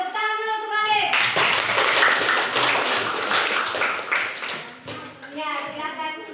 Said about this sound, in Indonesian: Ya, tepuk tangan dulu untuk Alif